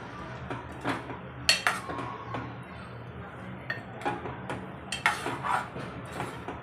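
Chicken angara is stirred in a pan over a low flame. Soft, scattered clinks and scrapes of a utensil against metal come at an irregular pace, faint and close.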